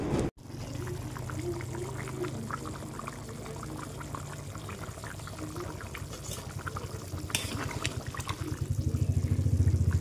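Water pours steadily into a pot of arhar dal with lobia, a continuous close splashing gush running for about ten seconds and growing slightly louder near the end.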